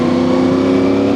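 A CFMoto Ibex 450 motorcycle engine runs loud and close with a steady revving drone and no talk over it.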